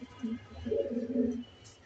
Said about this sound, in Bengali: মাদিটা হচ্ছে বিআরপিএফসি ক্লাবের কবুতর